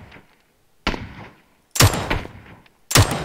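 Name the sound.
gunfire in video game PUBG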